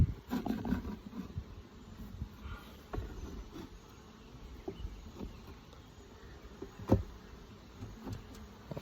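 Honey bees from a nucleus colony hum steadily while hive frames are cleaned of stray comb in West Virginia, a soft continuous buzz with occasional light knocks and scrapes from the frames.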